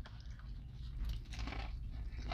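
Crunchy fried fish sandwich from Bojangles being bitten and chewed up close, with steady crisp crunching and mouth sounds continuing through the whole stretch, alone without talk.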